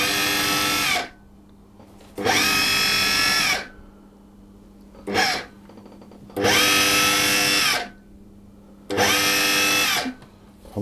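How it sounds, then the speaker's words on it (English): Food processor pulsing buttery shortcrust pastry mixture into fine crumbs: four long loud whirring bursts and one short blip, separated by near-silent pauses. "I'm going to pulse it again, longer pulses this time, until the mixture should turn into resembling fine breadcrumbs."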